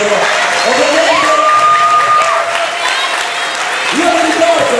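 A concert audience applauds performers walking on stage at a charity music evening, a steady dense clapping that stays loud from start to finish while someone speaks over it and tonal sounds drift in the background.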